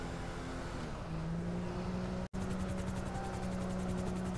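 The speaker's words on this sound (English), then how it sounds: "I hear the helicopter." A helicopter in the video game GTA 5 drones steadily overhead with a chopping rotor hum and engine whine, fairly constant and moderately loud, with a brief dropout partway through.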